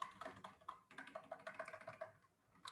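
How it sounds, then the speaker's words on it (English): Typing on a computer keyboard while building a chat app: a quick run of close, crisp key clicks in an uneven rhythm, with brief pauses between bursts. "Now, if I start typing in"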